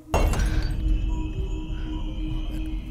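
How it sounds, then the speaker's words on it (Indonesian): A glass cup drops and shatters with a sharp crash followed by brief ringing and tinkling of shards, loud and close, against a low background hum. "menjatuhkan gelas kaca"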